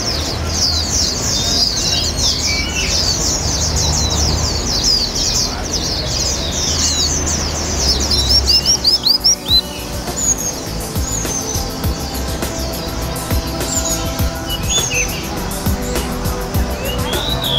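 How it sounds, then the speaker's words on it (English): Caged songbirds for sale at the Yuen Po Street Bird Garden in Mongkok, Hong Kong, chirp and trill in rapid overlapping bursts, strongest in the first half, over a murmur of crowd noise and distant traffic. "Most of the creatures here are songbirds available for sale."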